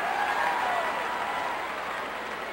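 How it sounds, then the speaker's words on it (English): A capacity arena crowd in the PS1 wrestling game WWF Attitude roars and applauds in a sustained, loud wash of cheering that slowly eases off. "Listen to this capacity crowd."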